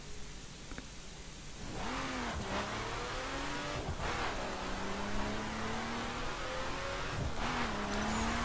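A RUF 3400 K engine in The Crew pulls hard under acceleration, revving up and holding near the limiter before each gear change, with repeated rising pitch sweeps over a steady loud drone, no talking.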